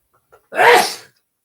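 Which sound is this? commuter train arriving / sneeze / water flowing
sneeze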